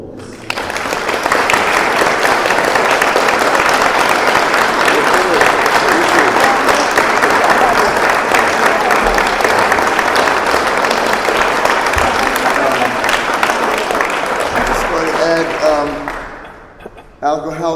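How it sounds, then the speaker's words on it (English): A long, loud round of audience applause at a talk on Pintupi painting fills the room steadily for about sixteen seconds, then tapers off as a voice begins speaking near the end. "I'd just like a long round of applause."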